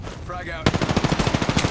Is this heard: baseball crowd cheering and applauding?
no